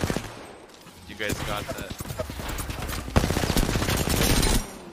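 Video game gunfire in rapid bursts of automatic shots, loud and sustained, with players talking over it.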